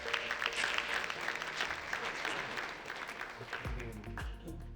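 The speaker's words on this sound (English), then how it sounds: "give a round of applause for Bronson for kicking that off." Audience applause at a tech startup summit in Arizona, a dense, steady wash of clapping that holds through the whole stretch, with some low murmur and music-like tones entering near the end.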